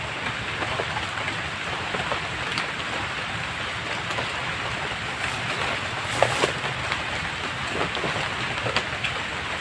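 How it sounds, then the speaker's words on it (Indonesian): Steady jungle rain drizzling, a dense, even hiss of drops that continues through the whole stretch with scattered louder patters, fairly loud and with no talking. "Mungkin buat teman-teman terdengar nggak rintikan hujannya nih"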